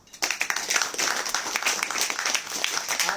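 A class of children applauding, a dense, steady patter of many hands clapping at once for a few seconds.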